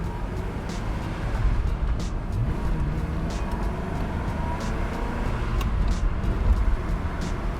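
A 2001 Ferrari 360 Spider convertible with its stock exhaust cruises along, heard from inside as a steady, subdued engine drone mixed with road and wind noise, even and unhurried throughout.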